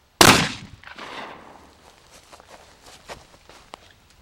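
A single loud 12 gauge shotgun blast fired at a poster board cracks sharply outdoors, followed by a fading rumble and scattered faint rustles and footsteps.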